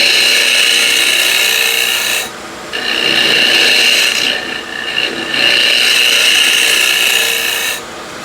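A woodturning scraper rasps against the bottom of a spinning walnut pot on a lathe, a loud, harsh scraping in three long passes separated by brief pauses.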